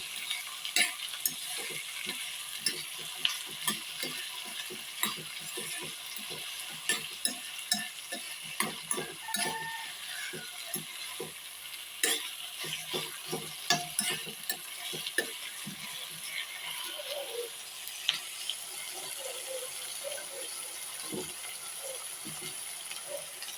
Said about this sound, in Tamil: மீடியமில் வச்சு நல்லா ஃப்ரை பண்ணிக்கோங்க. நல்லா இது வதங்கட்டும்.